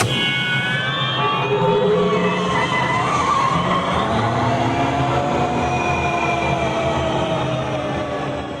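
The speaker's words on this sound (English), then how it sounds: "My favorite thing about the Rocket Rods was the sound effect it made." Disneyland Rocket Rods ride accelerating sound effect: a loud, continuous rising whine with layered tonal harmonics that climb steadily in pitch over several seconds, like a revving engine building speed, with no talking.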